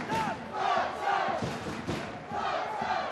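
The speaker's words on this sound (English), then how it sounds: "the Huddersfield fans here giving him and his memory a minute's applause" Huddersfield fans at a Super League rugby league match against Wigan give a minute's applause in memory of a player, a dense, steady roar of stadium crowd noise that swells and holds throughout.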